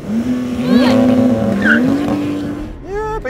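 Two Porsches, a 911 GT3 and a Turbo S, launch side by side in a drag race, engines revving hard with rising and falling gear-change tones and tire squeal, loud and close, with a voice briefly talking over it.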